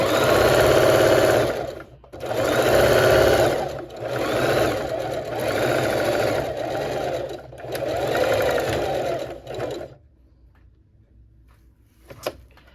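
A sewing machine stitches a dress shirt pillow in loud, fast bursts of mechanical whirring, roughly five runs separated by short pauses, followed by quiet and a single small clack at the end.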